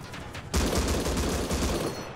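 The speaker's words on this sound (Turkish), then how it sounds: "Adam da bize sıkıyor." Rapid automatic gunfire in the survival video game Rust during a house raid, a dense, sustained burst of rattling shots starting abruptly and continuing loudly to the end.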